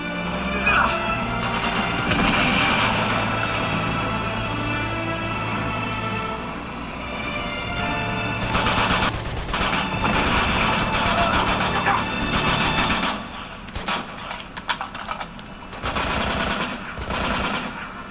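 Bursts of automatic gunfire and explosive impacts in the video game Uncharted 2, loud and rapid, in long rattling volleys that later break into choppier clusters, with a voice talking in places.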